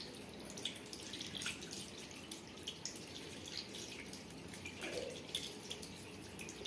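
Water running and dripping into a bathroom sink basin as a child washes their face, a faint steady trickle with small splashes, quiet and close.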